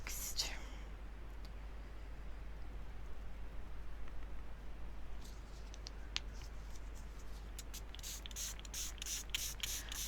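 Several quick spritzes of water from a spray bottle in short bursts near the end, soft and close, over a steady low hum with no talking.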